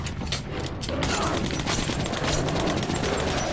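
Hip-fired gunfire in the post-apocalyptic shooter Metro Last Light, a dense rattle of rapid game shots with clicking mechanical weapon noise over a steady, loud backdrop.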